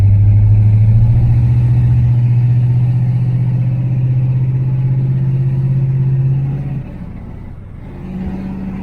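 A 1978 Chevrolet Nova with a V8 rumbles along in a steady low drone from inside the car, then the engine note drops as it eases off before picking up again.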